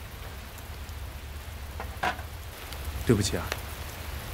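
Steady rain falls in a romantic drama scene, a soft broadband hiss running throughout, while a voice speaks briefly over it near the end.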